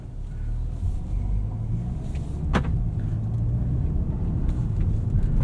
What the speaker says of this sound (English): It's a little bit more NVH than I would prefer from these 20-inch wheels and tires, especially over rougher roads, bumps, potholes, etc.